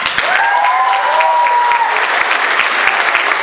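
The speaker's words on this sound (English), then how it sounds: "give a round of applause for that" Audience applause for the sixth-grade cast of a school musical, a steady dense clapping that fills the room throughout, with a few whistles rising over it.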